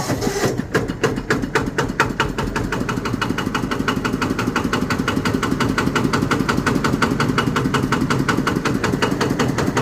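The engine of a used Thai i-taen farm vehicle runs close by, with rapid, regular thumping pulses held steady throughout.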